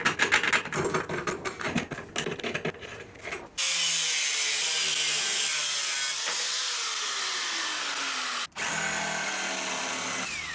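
A power drill driving screws into a wooden backer board while building a coat rack from an upcycled wagon: bursts of ratcheting clatter, then a long steady high whine with pitch shifts, brief stop and restart, loud and close.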